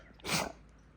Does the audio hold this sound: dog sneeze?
yes